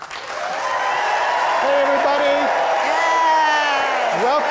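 Conference audience at a church gathering clapping and cheering, steady loud applause with whoops and shouts over it, voices calling out across the room.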